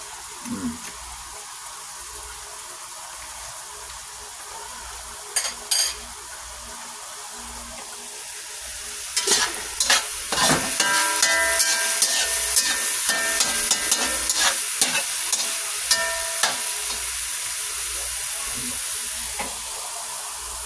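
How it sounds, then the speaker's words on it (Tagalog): Alamang shrimp paste being sautéed in a pan, quiet at first with a few faint clinks, then a louder hiss of frying and bursts of spatula scraping and stirring that continue to the end. "Igigisa na natin guys yung alamang."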